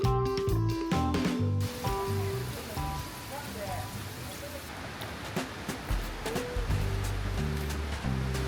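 A waterfall at Khao Chamao in Rayong, Thailand, heard from a steel footbridge after rain, gives a steady rushing roar that runs throughout beneath music.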